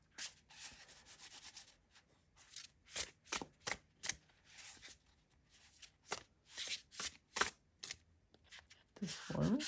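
A tarot deck is shuffled and cards drawn, with repeated close, papery riffles and slides in an uneven rhythm, ending in a longer rustle.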